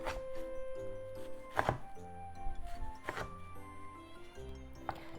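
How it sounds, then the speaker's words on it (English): Knife chopping through squeezed, rolled lettuce on a cutting board: a few spaced, crisp thunks near the mic, with no talking. "Let's cut it into 4."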